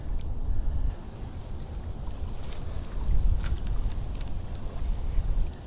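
Wind blows outdoors at a winter fishing spot on Long Island, New York, rumbling steadily and buffeting the microphone in gusts, with faint clicks and rustles over the low roar.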